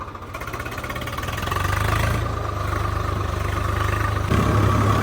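A Swaraj 855 tractor engine runs steadily while puddling a field, with a low, throbbing rumble, growing slightly louder partway through and staying close and continuous throughout.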